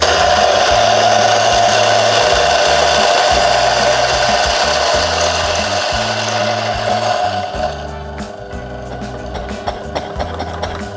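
A Ceado Life X coffee grinder runs loud and close, grinding beans with a dense, steady mechanical whir and rhythmic churning, then the tone thins and lightens in the final seconds.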